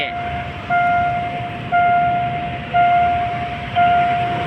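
A steam locomotive hauling a special holiday excursion train near Chachoengsao junction in Thailand, heard as a steady rumble with a sustained tone pulsing roughly once a second across four seconds.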